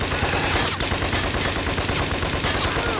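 Rapid gunfire from the video game Scarface: The World is Yours, with dense, loud bursts of automatic shots cracking continuously in an action-heavy mix, with no one talking.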